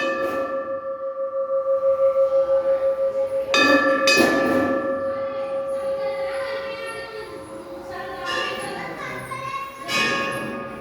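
Small temple bells rung by devotees in a Hindu temple, several sharp metallic strikes ringing out with long sustained tones, overlapping and fading between rings against a steady humming background.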